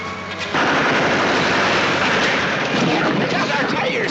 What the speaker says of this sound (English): Shoot out their tires.